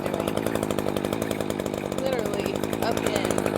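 A chainsaw runs continuously close up, its engine droning with a fast rhythmic chatter as it cuts firewood sections from a large brush pile outdoors, steady and loud throughout.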